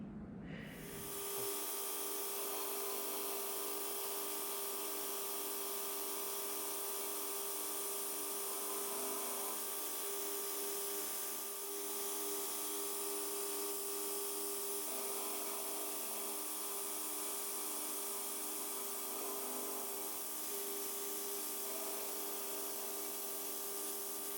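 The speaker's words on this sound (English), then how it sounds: "this has to be drilled out for 5/16 11" Drilling out a machined metal part held in a trammed mill vise for a two-leg puller, a steady high machine whine with a constant tonal hum running throughout, faint and uninterrupted.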